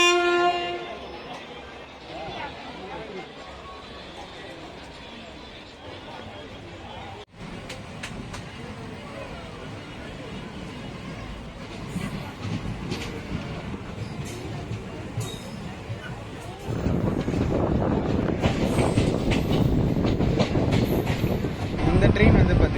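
An Indian Railways express with Utkrisht coaches passes on the Villupuram–Sirkali line, opening with loud horn blasts and then a steady rolling rumble of wheels and carriages that swells louder toward the end.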